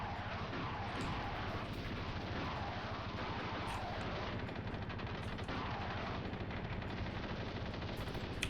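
A 1998 demo video game fires its guns in a continuous, dense barrage of rapid shots and booming blasts, loud and steady from start to finish, with no pause.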